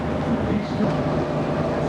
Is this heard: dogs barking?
no